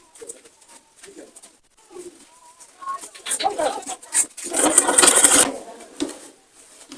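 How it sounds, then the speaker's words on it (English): Sewing machine stitching a straight seam on turban fabric: a rapid, buzzy mechanical run of about two seconds in the latter half, preceded by a voice talking and brief handling noises, close by. "the next thing we're going to do now is to sew this part with at least quarter of an inch straight down"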